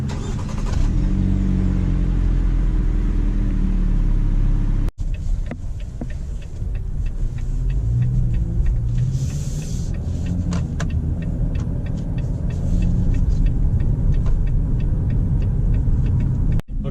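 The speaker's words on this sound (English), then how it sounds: "we're setting off here in the all-new 2017 Jeep Compass with the revised body style" A 2017 Jeep Compass SUV pulls away, its engine droning steadily with a low rumble that climbs as the vehicle gathers speed, heard from inside the cabin with brief interruptions and no talking.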